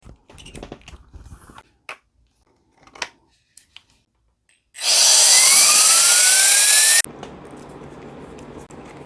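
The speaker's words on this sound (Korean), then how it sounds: "물 빼는 기계를 만들었어요." A homemade pump machine draining coolant from a PC water-cooling direct block starts with a loud steady whir, runs a couple of seconds close by and cuts off, after a few earlier clicks and taps.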